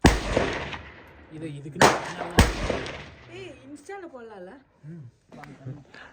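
AKM rifle shots at a shooting range ring out as three sharp, loud cracks with brief echoing tails, followed by people talking nearby.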